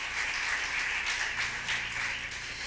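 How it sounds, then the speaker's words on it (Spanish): A church congregation applauds during a Christian worship service, a steady, fairly soft wash of many hands clapping from a distance, continuous with no voices rising above it. "Déselo fuerte el aplauso al Señor"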